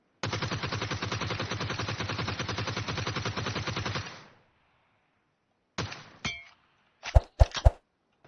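Video game gunfire rips out as a loud, continuous automatic burst for about four seconds, then stops; a few shorter bursts and sharp single shots with metallic clinks follow after a gap.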